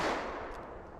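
A single 10mm Auto pistol shot with a Winchester Silvertip load, fired outdoors at a fiberboard target: one sharp, loud report at the start that decays into a lingering echo.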